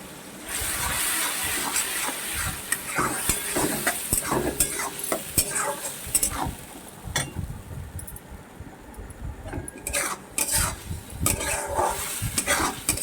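Yardlong bean paste fries with black cumin seeds in a pan, giving a steady close sizzle broken by repeated scraping and clinking stirs of a utensil against the pan.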